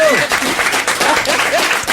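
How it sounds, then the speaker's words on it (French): Studio audience applause on a French television talk show, a full steady round of clapping for about two seconds as a host's voice speaks over it. "c'est bien d'être applaudi dès le départ"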